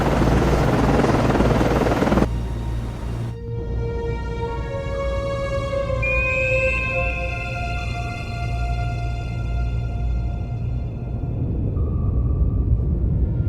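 A naval helicopter aboard a warship in Cold Waters gives off a steady, loud rotor thrum and turbine whine that holds throughout, with a rushing wash at the start and tonal engine notes rising as it launches.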